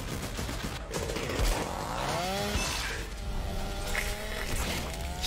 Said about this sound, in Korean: 빵! 전기톱으로.